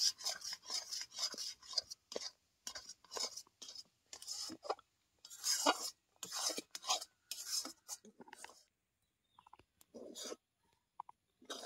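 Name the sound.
mixing cooked semolina (suji) into a dough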